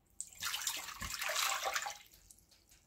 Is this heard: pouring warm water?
yes